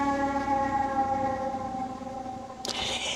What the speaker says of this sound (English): There go the fire truck.